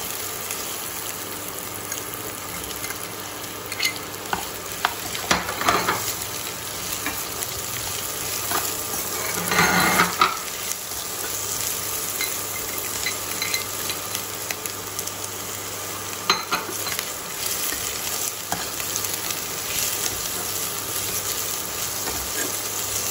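Capsicum and carrot being stir-fried for veg hakka noodles, a steady continuous sizzle with intermittent clinks and scrapes of a spatula against the pan throughout, and a faint hum underneath.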